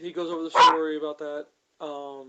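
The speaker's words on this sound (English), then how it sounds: "Was that a dog? yeah, that was a dog." A single brief dog bark rises once in the background while people keep talking over it.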